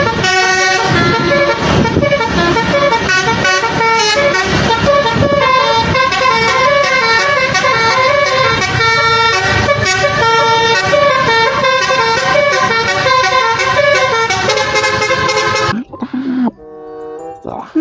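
A QQ Trans Winspector bus sounds a loud, continuous melodic horn as it passes, with rapidly changing musical toots playing for about sixteen seconds before cutting off abruptly.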